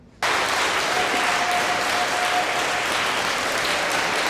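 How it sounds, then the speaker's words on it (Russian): Sustained applause fills a hall at a university graduation ceremony in Kazan Federal University's main building, starting abruptly and continuing as a dense, even wash of many clapping hands from a large crowd. "Тем временем в главном здании КФУ не смолкают аплодисменты."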